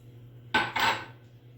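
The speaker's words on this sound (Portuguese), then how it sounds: "coloquei aqui as 4 medidas de água" Measured cups of water pour into an Oster rice cooker pot in two short, close splashing bursts, one right after the other.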